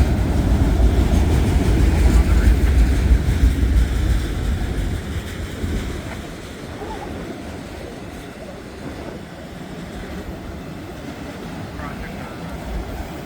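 A long freight train rumbles past in Hamilton on a cold, windy morning, a steady loud roar of wheels and rail cars that eases slightly in level partway through, with wind buffeting throughout.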